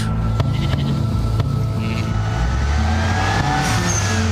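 A Porsche, an old-school 911 look-alike, revs its engine loudly and close by, the pitch climbing and falling through steady low engine roar with no talk over it.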